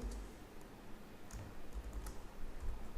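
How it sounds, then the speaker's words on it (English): Quiet keystrokes on a computer keyboard while coding, a few soft scattered taps and clicks over low room hum. "Let me quickly type here."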